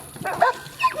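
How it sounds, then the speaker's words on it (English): Hunting dogs on a southeast Texas hog hunt give a few short, sharp barks and yips close by in quick succession. "we got some dogs baited up there."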